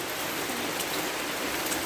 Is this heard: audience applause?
no